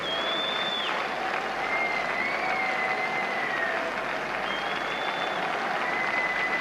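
Stadium crowd in Stuttgart applauding a decathlete, a dense, steady wash of clapping and cheering from a large distant crowd, with faint whistles rising above it throughout.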